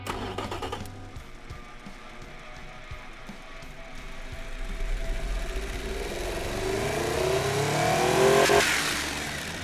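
A virtual aluminium-block car engine for a 1995 luxury sedan is revved in a driving simulation game, rising from a low idle into a climbing, straining whine that peaks loudly near the end before dropping off.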